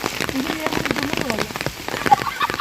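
Rain falls steadily during a dark, cool downpour in Jaffna, a dense patter of drops on surfaces heard close with a person talking over it.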